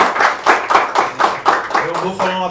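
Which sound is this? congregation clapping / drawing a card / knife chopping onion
congregation clapping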